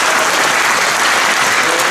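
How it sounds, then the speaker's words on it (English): A dense, loud round of applause from the audience at a high school academic awards ceremony, steady and continuous, honoring the tech crew. "So let's give them a round of applause."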